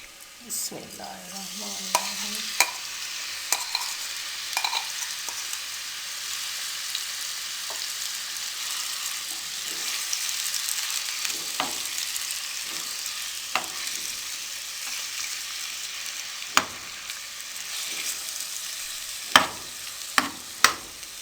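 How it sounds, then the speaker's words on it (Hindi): Chicken pieces with garlic fry in lemon juice in a pan, a dense, steady hiss with scattered clinks and scrapes of stirring, close and continuous, no speech. "अब चिकन को भी हम अच्छे तरीके से भून लेंगे।"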